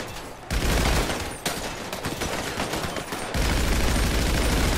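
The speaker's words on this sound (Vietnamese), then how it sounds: "Mà kia nó bắn ghê quá" Dense, continuous video-game gunfire in GTA 5, a heavy fusillade of rapid shots that stays loud throughout, with a brief dip and then an even fuller burst near the end.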